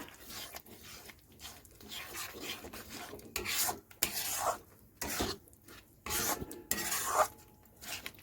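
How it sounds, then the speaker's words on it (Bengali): A spatula scrapes and rasps across a pan as spice masala is stir-fried, in rhythmic bursts of rubbing that grow louder and more forceful toward the middle and end. "দিয়ে এবার এই মশলাগুলি কষিয়ে নেবেন ভালো করে।"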